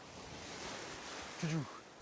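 Faint, steady surf from Sea of Japan waves washes against the shore with wind noise. A brief low voice sound cuts in near the end.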